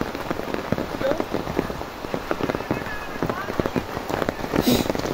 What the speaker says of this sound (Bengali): বৃষ্টি আর বৃষ্টি দেখুন আপনারা, কি বৃষ্টি, প্রচণ্ড বৃষ্টি হচ্ছে।